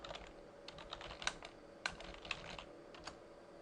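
Keystrokes on a computer keyboard as commands are typed into a NetApp Data ONTAP cluster-mode simulator shell, quiet irregular clicks with a few sharper taps and brief pauses, no talking.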